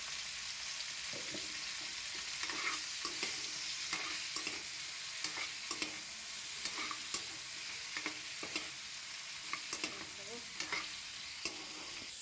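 Cauliflower fries in oil in a wok, a steady close sizzle broken by repeated scraping clicks of stirring, with no talking.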